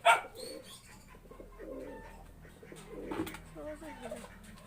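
Pigeons cooing close by in soft, repeated throaty calls, with some rustling and other faint noises around them.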